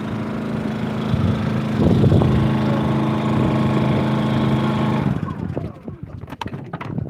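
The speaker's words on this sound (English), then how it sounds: "There's a little Honda generator." A small Honda generator runs at an Alaska homestead, humming at a steady idle close by for about five seconds before the drone fades, with someone briefly talking over it.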